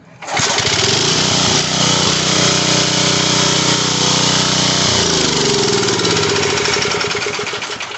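A Coleman Powermate 2000 watt generator engine (PM54-2000), recently frozen and flushed with diesel, starts up and runs with a loud, steady, close-up mechanical roar before beginning to wind down.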